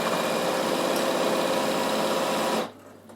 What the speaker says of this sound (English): Okay, so I can just put right side to right side, start in, sew back, and sew all the way down.